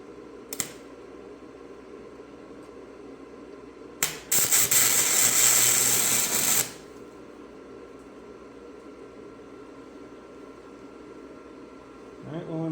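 A burst of welding crackles on spindle gussets for a 2000 Toyota Tundra, a dense hiss lasting about two seconds after a short spark, set against a quiet shop background.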